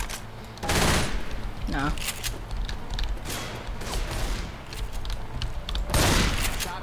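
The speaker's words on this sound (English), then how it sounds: "Shooting each other." Gunfire in Left 4 Dead 2, with loud bursts of rapid shots and scattered single cracks mixed with game noise, while a voice speaks briefly over it.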